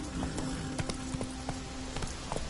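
Hooves of Roach, a horse in The Witcher 3, clop in a quick uneven rhythm, each strike distinct and moderately close over a steady low background hum, with no voices.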